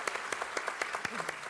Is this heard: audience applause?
yes